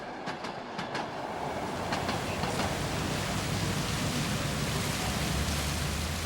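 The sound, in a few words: Trans-Siberian train arriving at Ulan-Ude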